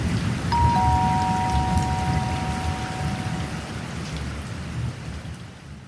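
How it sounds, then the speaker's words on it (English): A two-tone doorbell chimes once at a house door amid heavy rain and rumbling thunder, the clear ding-dong ringing out and fading over the steady downpour. "Guess I'll just ring the doorbell"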